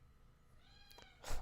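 A house cat gives a short, quiet meow near the end, preceded by faint rising tonal mewing, in a calm room with no talk.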